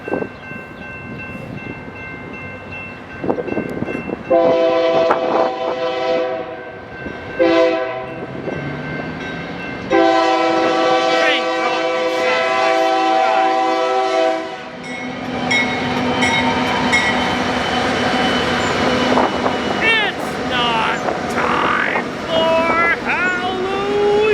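A heavy Union Pacific freight train passes at Tehachapi, its leading locomotive sounding repeated loud horn blasts over the rumble and rattle of the train; the blasts come in several bursts before the steady roll of the cars takes over.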